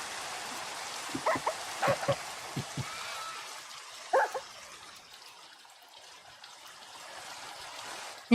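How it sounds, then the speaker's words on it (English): Rain falling at night in Minecraft survival, a soft steady hiss throughout, with a player talking over it in short bursts early on. "And now it's raining"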